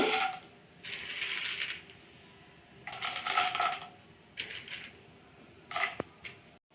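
Mustard seeds, urad dal and peanuts hit hot oil in a pan for tempering, producing several close bursts of rattling crackle separated by quieter gaps and ending with a sharp click.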